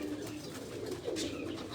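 A pigeon coos softly and briefly, close by in a quiet setting with no voices.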